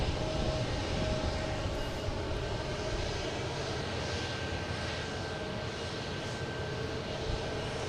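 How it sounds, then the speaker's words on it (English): A JetBlue Airbus A320 jet airliner at Boston Logan Airport gives a steady, broad engine roar that holds at an even loudness throughout, with a faint constant whine above it and no talk. "We got JetBlue here heading to Buffalo."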